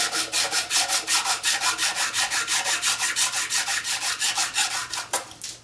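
A heat-treated knife blade being given a satin finish is glided back and forth on a flat machine surface, making a steady, rhythmic scraping rub of about twenty even strokes, loud and close, ending with a sharper scrape.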